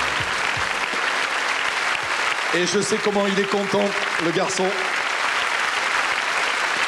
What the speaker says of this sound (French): prolongez les applaudissements